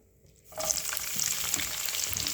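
Bitter gourd frying in a little oil, a steady bright sizzle that starts abruptly after a brief quiet moment and continues close and fairly loud, with faint stirring crackles.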